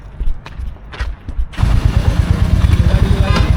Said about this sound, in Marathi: बाईक.